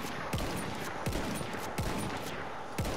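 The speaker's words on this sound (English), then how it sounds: "This is more of a close range sniper weapon." Close-range sniper rifle firing in Battlefield 1: four sharp, loud shots spaced roughly three-quarters of a second apart, each with a short booming tail, over a steady bed of battlefield background noise.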